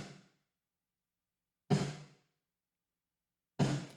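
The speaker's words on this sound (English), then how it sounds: "I'll engage that, and here's the sound of the reverb." Three gated snare drum reverb bursts from a Valhalla Room plugin, each a sudden, dense hit whose roomy tail cuts off abruptly after about half a second, separated by dead silence.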